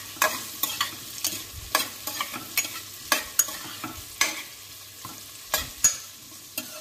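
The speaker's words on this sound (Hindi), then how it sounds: "अभी हम चलाएंगे इसको अच्छे से।" Potatoes, beans and carrots fry in a pan for khichdi while a spatula stirs them, a steady soft sizzle punctuated by a dozen or so sharp, close scraping strokes, with no talking.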